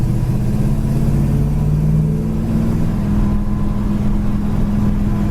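A 1972 Chevrolet engine with a freshly rebuilt carburetor idles loud and close, a steady low rumble that holds even and unbroken throughout.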